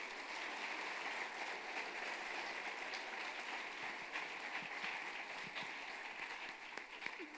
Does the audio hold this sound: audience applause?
yes